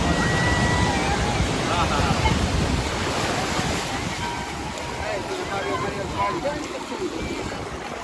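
Continuous surf at the beach in Mahuva, a steady loud wash of breaking sea waves with wind buffeting the microphone, people talking faintly in the background.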